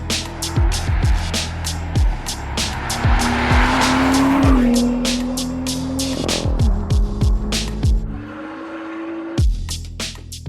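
A BMW M2 with an M Performance exhaust revs hard, and as it comes off throttle on overrun it fires rapid sharp pops and crackles. The engine note rises and falls through gear changes, loud and close.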